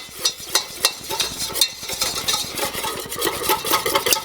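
A whisk scrapes and clinks briskly against a pot as flour and fat are stirred together over medium heat, a rapid rhythmic tapping and swishing with no voices.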